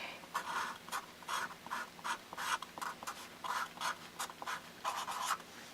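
Chalk or marker strokes writing a mathematical function on a board, a steady series of short scratchy strokes in quick bursts, close and clear, with no talking.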